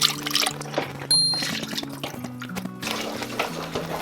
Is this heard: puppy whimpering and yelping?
no